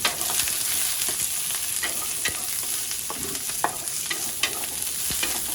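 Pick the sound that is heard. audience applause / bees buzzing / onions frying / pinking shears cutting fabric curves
onions frying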